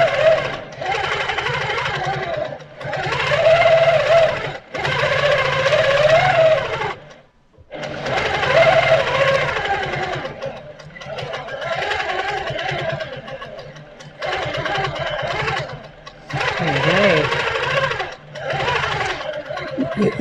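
Sewing machine doing free motion quilting at 12 stitches per inch, a loud, close, rapid mechanical whirring hum running in long bursts with short pauses between them.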